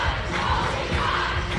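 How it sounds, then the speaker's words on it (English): The Central York fan base roars and shouts at a cheerleading championship, a loud, dense crowd cheer that holds steady throughout, with no talk over it. "And Central York, they brought their fan base here, Ashley. You can hear them. They're raring to go, ready to cheer on their team."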